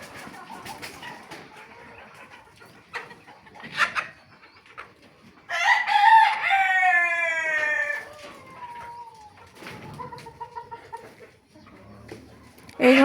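At a rooftop farm holding about 135 chickens, a rooster lets out one long, loud crow in the middle, while scattered clucks and other fowl sounds come before and after.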